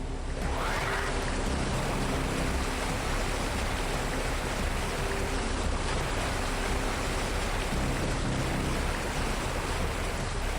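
Waterfall ambience from a Metroid video game, a steady, dense roar of rushing water that stays constant and fairly loud throughout with no other sounds.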